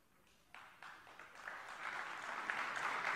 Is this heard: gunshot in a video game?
no